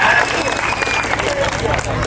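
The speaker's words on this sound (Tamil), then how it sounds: "ஒரு கைதட்டு விடலாம்." Audience clapping at a Tamil comedy stage show, a short burst of dense applause filling the hall with some talk mixed in.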